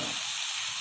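Hot water hits a pan of home-style egg curry with fried potatoes, giving a steady, close hiss and sizzle of steam that holds for under a second with no talk.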